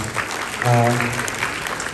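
Audience applause breaks out at a youth Q&A session with Anies, a steady wash of clapping that runs throughout, with a voice briefly speaking over it.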